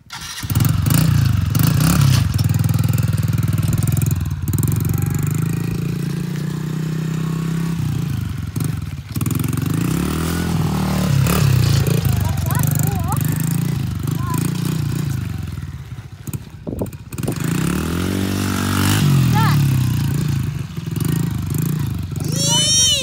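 A motorbike does a fast U-turn, its engine droning and rising as it revs and turns, loud and close throughout, with a voice talking over it at times.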